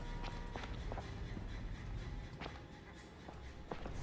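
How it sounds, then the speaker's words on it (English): Running footsteps in the game The Outlast Trials, a quick series of soft, irregular thuds over a murky background rumble, fairly faint throughout. "In a trial by yourself, running footsteps"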